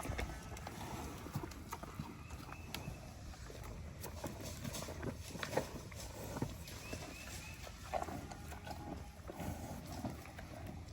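Cattle chomping and crunching feed noisily up close, a steady rough munching with scattered knocks and shuffles, outdoors among the herd.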